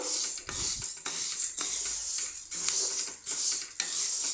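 Lentils dry-roasting slowly in a pan, with a dry rustling sizzle and repeated rhythmic stirring scrapes of a spoon against the metal, close and fairly loud.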